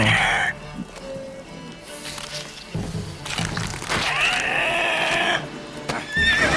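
A horse in The Witcher video game whinnies in several loud shrill bursts between thuds and cracks from the game, with a speaking voice mixed in.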